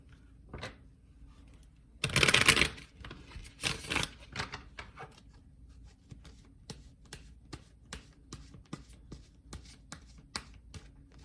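A Chakra Wisdom Tarot card deck is shuffled: a loud riffling burst followed by a run of soft, quick card taps and slides close by in a quiet room.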